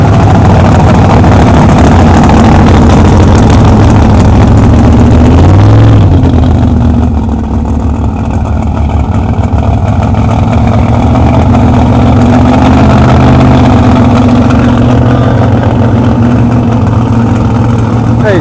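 Several Studebaker cars at the Daytona Turkey Run car show idle and rev close by, a loud continuous engine rumble with swelling revs, heard outdoors on a sunny day.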